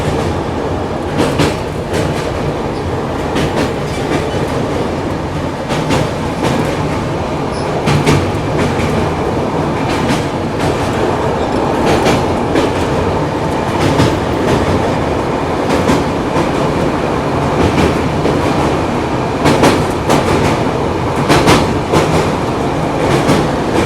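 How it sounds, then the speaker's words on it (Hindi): The Shramjeevi Express passenger train runs on tracks out of Delhi toward Ghaziabad, heard from on board as a loud, continuous rumble with repeated clickety-clack of wheels over rail joints. "और हमारी ट्रेन अब निकल गई है आपका गाज़ियाबाद वाली लाइन पर।"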